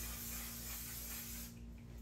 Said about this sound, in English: this setting spray